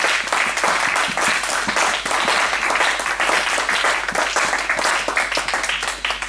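A French-speaking church congregation applauds loudly for the glory of God, with dense, sustained clapping that fills the whole stretch. Voices are faintly mixed in beneath it.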